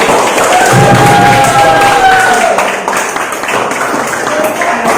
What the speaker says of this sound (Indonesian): tepuk tangan buat Albi